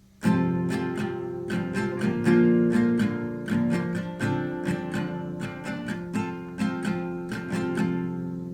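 Acoustic guitar strums the intro of an easy Valentine's love song, played without a capo, in a steady repeating strumming pattern of bright, evenly spaced chord strokes, close and alone with no voice.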